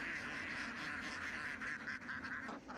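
Ducks in flooded rice fields, where farmers take three rice harvests a year, give a steady, faint chorus of quacking and honking that runs continuously with no talk.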